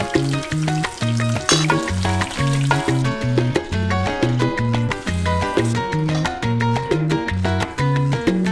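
Tawilis, a small fish from Taal Lake, fry in hot oil with a steady crackling sizzle. A loud rhythmic music track with repeating melodic notes plays over it, and no one speaks.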